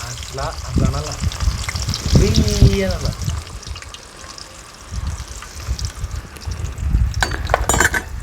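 Onions, green chillies and curry leaves dropped into hot oil in a village-style kitchen, a burst of loud spattering crackle and clinks of utensils that settles into steady frying, with people talking over it.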